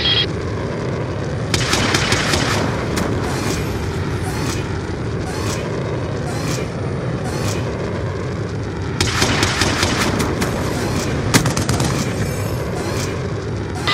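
Repeated bursts of gunfire and booming impacts from a Reaper airstrike in the video game Black Ops 2, loud and sustained, with clustered volleys near the start and again toward the end over a continuous rumbling bed.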